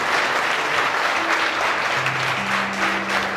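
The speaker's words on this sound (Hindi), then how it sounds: "देखो एक बार जोरदार ताली से स्वागत कर दीजिए" Loud, sustained welcoming applause from students in a coaching class in Kota, a thick, steady roar of many hands clapping together, with faint tonal hums beneath.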